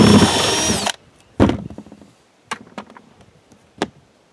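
A power drill runs loud and steady for about a second while removing screws during a bathroom air fan replacement in an RV, then several sharp knocks and clatters of hardware follow, spaced apart.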